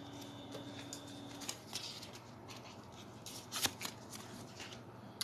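Tarot cards are shuffled and drawn by hand, with quiet papery riffles and a few sharper card snaps over a faint steady hum, close and soft with no talking.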